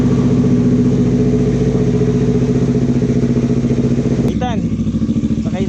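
A big bike motorcycle engine idles and warms up close by, a steady loud throb that shifts into a brief rev near the end, with a voice speaking over it.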